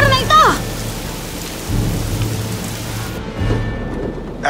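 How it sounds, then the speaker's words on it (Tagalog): A heavy thunderstorm, with rumbling thunder and dense, steady rain pounding down throughout, and louder thunder swells near the start and again toward the end. "Nagwala ang bagyo at niyanig ang malaking bundok."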